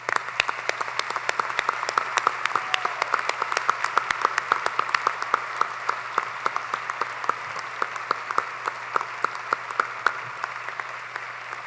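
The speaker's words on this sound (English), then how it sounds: "Would the convention please give applause to the dignitaries." A crowd applauds steadily for several seconds at a joint convention for a Maine governor's inauguration, dense clapping filling a large room, then thinning slightly toward the end.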